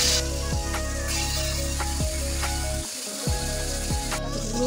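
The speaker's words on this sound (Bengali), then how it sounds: "মাছের পিসগুলো টানানো হবে, তারপর নামিয়ে নেব।" Rui fish pieces coated with turmeric sizzling in hot oil in a pan, a steady crackling fry with periodic bursts and a brief quieter dip midway.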